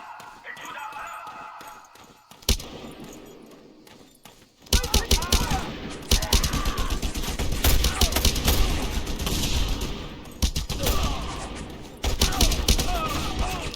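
A big gun fires in Just Cause 2: after a quieter stretch with one sharp hit, heavy rapid bursts of automatic gunfire erupt and keep hammering loudly, with brief pauses and voices mixed in.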